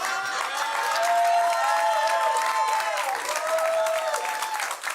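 Studio audience applause on a French-language talk show, loud dense clapping and crowd noise throughout with sustained musical tones ringing over it.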